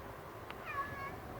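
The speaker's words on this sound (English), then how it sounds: "there's another cat back there" A cat meowing somewhere behind a house under renovation, a single faint drawn-out meow heard at a distance over quiet outdoor ambience.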